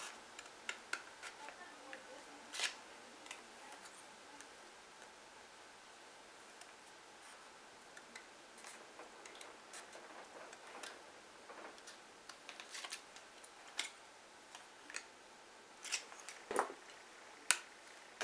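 Scissors snipping through a plastic gift card to cut out guitar picks, giving a run of faint, irregular close clicks and ticks against quiet background hiss with no voice.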